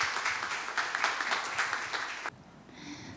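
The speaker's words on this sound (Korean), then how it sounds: "박수 한번 부탁드립니다." Audience members at a school information session clap for students coming forward, a brisk burst of applause that stops abruptly partway through, leaving quiet room tone.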